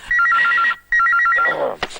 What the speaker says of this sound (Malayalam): Phone phone.